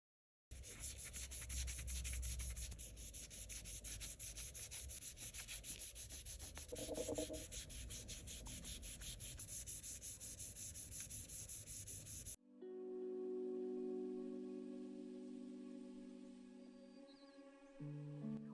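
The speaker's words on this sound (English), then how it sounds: "I'm going to be going in with this 80 by 80 file on the sides of the nail and the free edge so that the shape is crisp" An 80/80 file rasps steadily against polygel nail extensions, a close, continuous scratchy rubbing that stops abruptly partway through, giving way to a quieter tonal hum.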